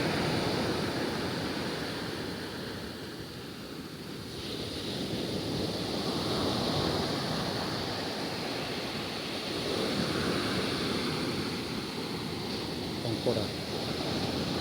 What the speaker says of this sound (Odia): ଏତେ ବଡ଼ ବଡ଼ ଢେଉ ଆସୁଛି, ଉପରକୁ ପାଣି ଧରି ଆସୁଛି, ବଡ଼ ଢେଉ ଆସୁଛି।